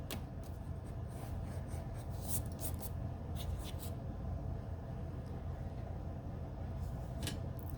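Pencil on paper tracing circles with a shape tracer, faint scratchy strokes in short bursts over low room hum, quiet and close with no talk.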